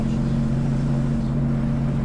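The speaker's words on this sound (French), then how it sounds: "Deux moteurs V8 de 300 chevaux." A motorboat powered by two 300-horsepower V8 engines runs with a steady, loud, low engine drone and strong tonal hum, holding constant without talk.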